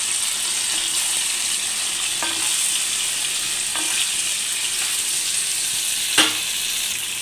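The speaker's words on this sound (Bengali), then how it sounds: "এবার আমি পনিরগুলো ছেড়ে দেবো।" Paneer pieces fry in hot oil seasoned with salt and turmeric, giving a steady, loud broadband sizzle throughout with a few faint clicks of stirring, and no voices.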